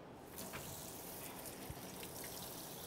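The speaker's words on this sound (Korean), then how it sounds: "야채를 먼저 씻어 줄게요" Vegetables being washed under a running kitchen tap, a faint steady stream of water with light splashing and a soft knock partway through, no voices.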